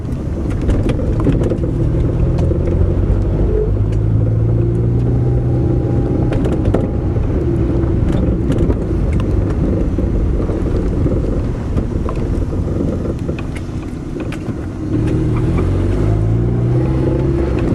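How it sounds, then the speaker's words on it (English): Engine running steadily with a throttle chop and no popping, a loud continuous low rumble with wind buffeting throughout, dipping briefly before resuming. "Chop the throttle, I don't get any popping."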